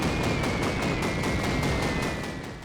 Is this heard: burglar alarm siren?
no